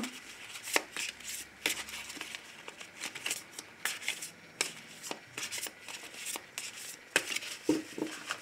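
Oracle cards being shuffled and cut, a steady run of soft papery riffles and rubs with sharper flicks and taps, close up and fairly quiet, with no talking.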